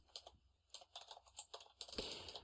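Fingers tap quickly on a computer keyboard while working in Grasshopper modelling software, producing close, crisp clicks in short irregular bursts with brief pauses between them.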